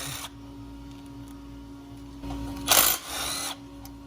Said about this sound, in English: we're going to remove these bolts that hold the harnesses on the brake line